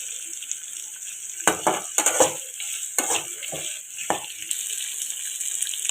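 Upma ingredients frying in a pan until browned, with a steady high sizzle and a few clustered spatula scrapes and clinks against the pan.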